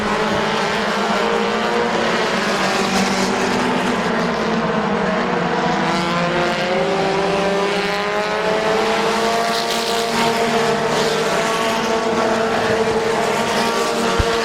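Race cars battling for the lead at Midvale Speedway, engines loud and close with rising and falling revs sweeping past in a continuous snarling roar.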